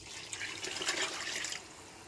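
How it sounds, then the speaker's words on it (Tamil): Water poured into a pot of brinjal gravy while cooking, a brief soft splashing pour lasting about a second and a half, faint and close with no talking. "அதனால் நான் தண்ணி ஊற்றிக்கிறேன்."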